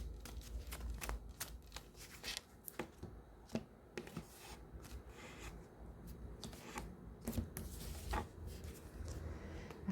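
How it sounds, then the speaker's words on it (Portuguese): A deck of Lenormand cards is handled and drawn from, producing quiet, close riffling and snapping card flicks in an irregular run of soft taps. "Vou tirar aqui 3 cartas do Lenormand."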